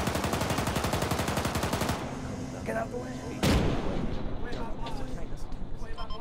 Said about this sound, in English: Sounds like a BMP 3 big gun.